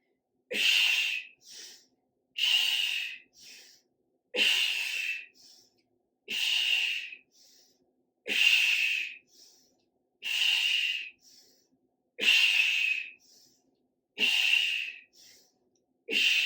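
Heavy, forceful breaths during a strenuous workout, with about nine loud exhale-inhale cycles in a steady rhythm, each sharp exhale followed by a shorter inhale, close and alone without talk.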